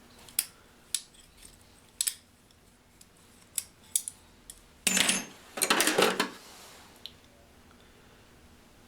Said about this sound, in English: That's a real old pair of pliers.